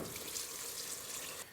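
Broth mixture made with water is poured into a pot of collard greens, a steady, soft liquid splashing and trickling that holds evenly for over a second before easing off at the end.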